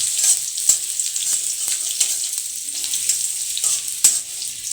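Garlic frying in a pan as the first step of coriander-leaf noodles gives a close, steady sizzle with crackling pops and occasional stirring scrapes, no voices.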